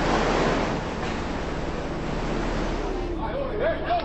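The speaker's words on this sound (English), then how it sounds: "One man on the beach has no choice but to stand up to the oncoming wave." Churning surf and wind rush from a tsunami wave approaching a beach, a broad steady roar with faint voices and wind buffeting underneath.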